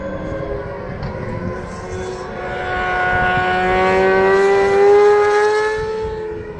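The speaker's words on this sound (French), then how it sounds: "Donc voilà, le side Peugeot." A Peugeot racing sidecar outfit passes on the Alès circuit during an FSBK sidecar race, its engine note rising to a loud peak as it nears and then sweeping past with a falling, droning whine.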